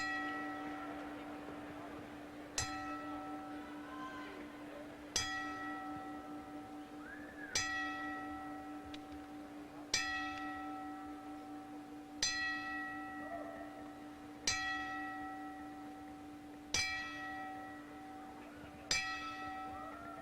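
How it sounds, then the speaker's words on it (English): A single bell clangs at a boxing ring for a ten-bell memorial tribute. The strikes fall slowly and evenly about every two and a half seconds, each ringing on and fading, in a hushed arena under a steady low hum. "we will have our 10-bell tribute in memory of the great heavyweight contender, Jerry Quarry"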